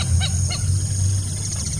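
Wild waterbirds, such as white-cheeked pintails and common moorhens, call near a camouflaged hide in the Brazilian sertão. Two quick, close calls ring out over a low, steady hum.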